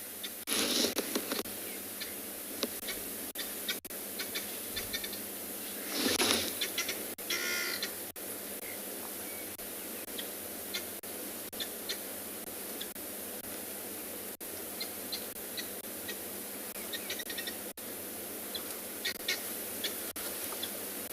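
Guinea fowl call near a safari vehicle on a sunrise game drive at Tswalu: harsh, raspy cackling bursts that come in scattered runs, clustered early and around the middle, over a steady hiss of wind or engine noise.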